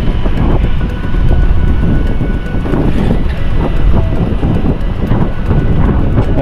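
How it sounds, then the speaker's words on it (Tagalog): An MRT train runs near Boni along EDSA, giving a loud, steady rumble that is mixed with heavy wind buffeting for the whole stretch. "Ayan po ang MRT ng Boni."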